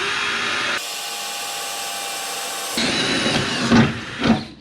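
A power drill with a bullet-point bit cuts a hole through the sheet-metal body of a camper van conversion. Steady loud whine with abrupt changes in pitch, then a couple of sharp louder bursts near the end. No one speaks.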